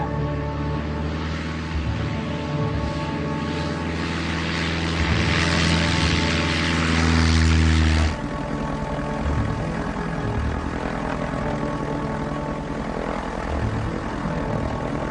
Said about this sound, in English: I hadn't landed at this little airport in a long time.